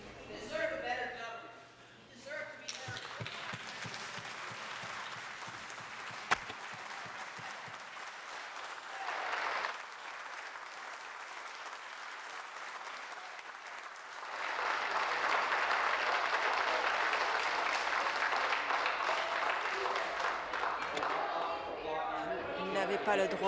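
Spectators in a parliamentary public gallery applaud during question period, bursts of clapping and crowd noise swelling and fading across the stretch, mixed with murmuring voices and a speaker talking at the start.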